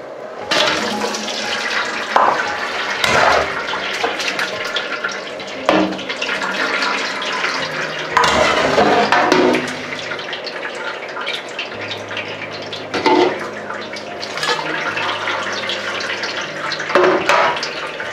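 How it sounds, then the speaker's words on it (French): Cooked pork for rillettes drains through a colander with a loud rush of water and liquid pouring, broken by splashes, clanks and dripping bursts spread across the clip. "je vais les égoutter dans une passoire"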